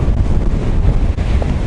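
Strong gusting wind buffets the microphone on a winter beach at Anapa, a steady loud roar with surf rumbling underneath throughout and no voices.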